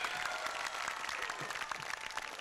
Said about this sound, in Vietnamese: Một tràng pháo tay dành cho Hoàng My cùng với gia đình trái cây.